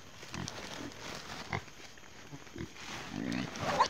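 A pig grunts in scattered low snorts at close range, faint and irregular against outdoor background noise, with no talking.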